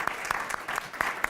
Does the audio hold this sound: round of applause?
yes